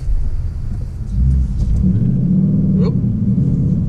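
Idling 5.0L V8 of a 2021 Ford Mustang GT Premium runs as a heavy low rumble, then dips and surges as the engine nearly stalls, with a brief spoken exclamation over it.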